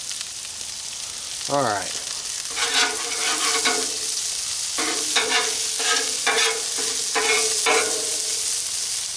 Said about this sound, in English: we're gonna stir this up and just let it saute